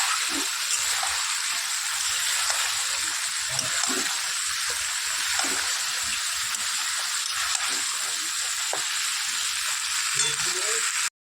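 Spices and fish heads sizzle while sautéing in a pan, a steady bright hiss of frying with occasional soft stirring scrapes, close and continuous throughout.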